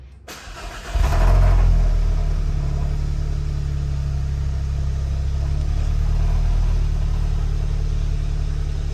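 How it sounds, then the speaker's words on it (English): Cold start of a 2016 VW Golf R 6-speed in frigid weather: a brief starter crank, then the engine catches with a loud flare of revs and settles into a steady, deep idle. "Hit a cold start."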